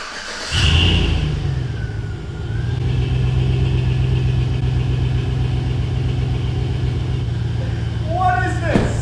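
A truck engine runs at a steady, loud idle with a droning exhaust note fitted with a turbo exhaust whistle, a faint whistling tone rising briefly early on and a sharper chirp near the end.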